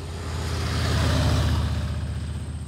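Yamaha Star Venture motorcycle with its stock exhaust starts up, its engine rising into a loud, throaty, close-up pulsing rumble that holds steady, heard alone without talk.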